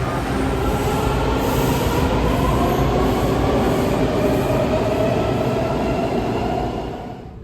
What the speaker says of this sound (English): I'm at Friendship Heights Station on the Metro Red Line.